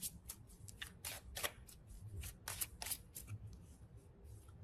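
Tarot cards shuffled by hand in a series of quick crisp riffles and flicks with short pauses between bursts, fairly quiet and close, with no voices.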